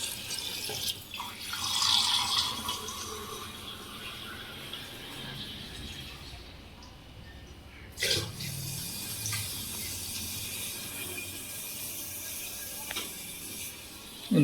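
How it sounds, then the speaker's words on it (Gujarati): Filtered water from a home water filter pours into a glass, a running watery splash with a louder burst early on and another around the middle, moderately close and fairly quiet. "એક ગ્લાસમાં ભરીને બતાવતા ને કેવું છે પાણી"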